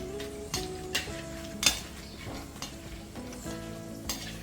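Whole spices and cardamom fry gently in oil over low heat, a soft crackle marked by occasional stirring knocks and light metallic clinks from a pan, fairly quiet with no voices.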